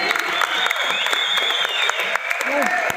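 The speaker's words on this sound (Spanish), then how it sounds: "Un aplauso para quienes están allá afuera, en la plazoleta, en la pantalla." Applause from an audience gathered at a public event in Cali, Colombia, a dense steady patter of clapping lasting throughout, with a whistle-like tone and some crowd noise mixed in.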